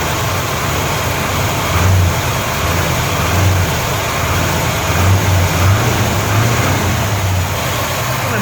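A 1972 Chevy C-10 4x4 truck engine runs steadily at idle with a low, continuous rumble and small surges, with a possible wrist pin noise not clearly distinguishable.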